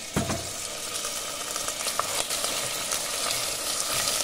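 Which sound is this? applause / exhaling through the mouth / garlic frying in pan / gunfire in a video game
garlic frying in pan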